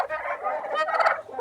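A flock of Big 6 breed turkeys on a farm in Tashkent region gobbles loudly and close by in a rapid, warbling burst with no talking.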